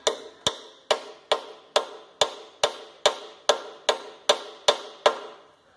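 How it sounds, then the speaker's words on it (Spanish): Hammer blows drive a stripped bolt stud into place on an engine or transmission case, thirteen sharp metallic strikes at an even, brisk rhythm, each ringing briefly before the next, close and loud with no talk. "le voy a dar unos golpes para que entre un poco más"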